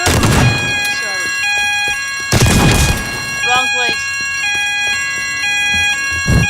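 A fire alarm in a shopping center in the video game Teardown sounds a repeating pattern of steady electronic tones, loud and continuous, while a recorded evacuation announcement and a person's speech break in over it.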